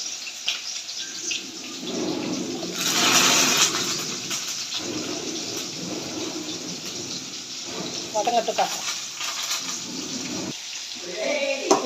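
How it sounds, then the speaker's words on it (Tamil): Onions and curry leaves frying in hot oil for a Tamil fish curry, a continuous broadband sizzle and crackle that rises and falls, heard under someone talking. "பொரிஞ்சிச்சு தாளிச்சு வச்சா வெங்காயமும் கருவேப்பிலையும் போடலாம் வெங்காயம் நல்லா ப்ரௌன் ஆகணும்"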